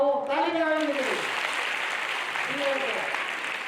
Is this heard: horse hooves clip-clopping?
no